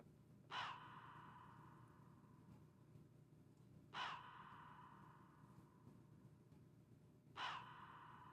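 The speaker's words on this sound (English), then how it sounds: "That's what that feel is by adding that crow." A crow's caw, sampled into a hip-hop beat, repeats three times at steady intervals of about three and a half seconds over a constant low, breathy background bed.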